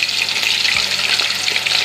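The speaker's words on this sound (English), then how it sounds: "So this is the yam frying at the moment." Yam and onions frying in hot oil, a loud, steady, close sizzle with a faint thud partway through and no speech.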